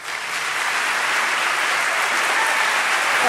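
An audience at a journalism symposium applauds Bob Schieffer, a dense, steady wash of clapping hands that stays loud and even throughout with no voices over it.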